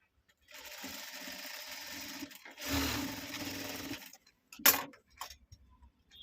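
A sewing machine stitches a single umbrella sleeve in short whirring bursts separated by pauses, close and moderately loud, with small clicks and handling noises between runs.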